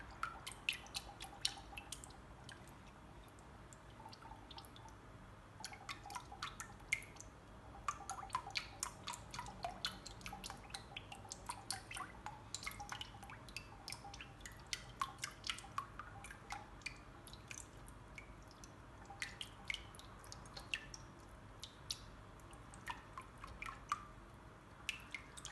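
Sweetened condensed milk oozing slowly from a can, heard as faint, irregular drips and soft wet squishes spread steadily across the stretch, quiet and close.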